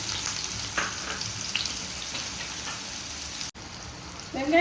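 Finely chopped large onions sizzle steadily in hot oil for fish semiya, a continuous crackling hiss with occasional stirring scrapes and a brief dropout near the end.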